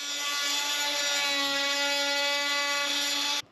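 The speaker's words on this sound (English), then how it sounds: "This is our first cut through the carbon to see how it actually looks like, what we have done." A power tool cuts the carbon fiber flange off a sailboat doghouse mold, giving a continuous high-pitched whining grind, close and steady for about three and a half seconds before stopping abruptly.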